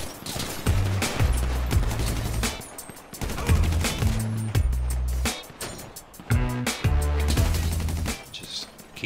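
Short bursts of gunfire in the GTA Online video game, several quick clusters of shots over a low droning rumble and vehicle-like hum, loud and close.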